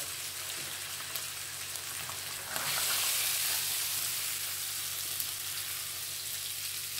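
Pearl spot fish frying in hot oil in a home kitchen, a steady close sizzle and crackle that swells briefly louder partway through and then settles, with no talking.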